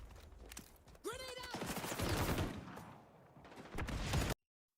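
Gunfire in the first-person shooter XDefiant crackles in rapid bursts, a dense rattle of shots mixed with game effects and a rising whoosh, fairly loud and close.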